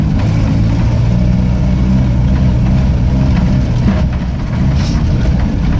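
The engine of a 1980 Land Rover Series 3 109 drones loud and close while driving, a steady low rumble that holds throughout with slight variation in revs.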